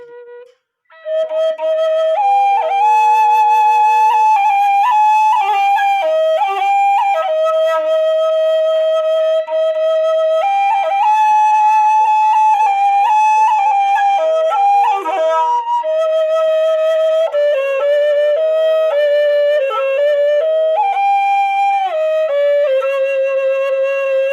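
A Sasak bamboo flute plays a lively, ornamented melody, the tune "Tegining Teganang", with quick trills and held notes, continuous and close, with no voices.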